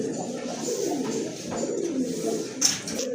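Pigeons coo steadily in a low, throaty warble from birds kept for sale, with overlapping calls close by and a faint high chirp near the end.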